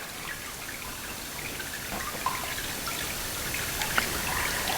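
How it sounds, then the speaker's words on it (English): Water trickling and dripping steadily through the screen of a paper-making mold holding pulp, a faint continuous dribble with scattered small drips, heard alone. "you can see a lot of water already coming out through the screen"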